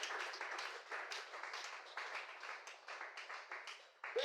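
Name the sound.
congregation applauding to acclaim God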